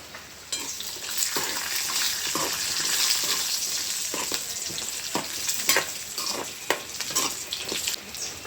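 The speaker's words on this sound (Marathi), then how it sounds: "साधारण 1 कप आहे काजू. छान असं मस्तपैकी भाजून घेते" Cashews, about a cupful, frying and being stirred in a hot kadai over a wood-fired chulha, giving a steady close sizzle with scraping stir strokes and occasional metallic clinks, no talk.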